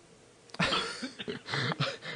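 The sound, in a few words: cough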